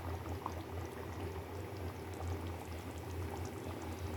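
Tuna fish curry boils steadily in a pot, a dense, even bubbling that holds at a constant level from start to finish with no voices.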